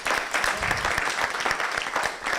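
An audience claps at a youth leaders awards ceremony in Jamaica, a lively, sustained round of applause with distinct individual claps standing out.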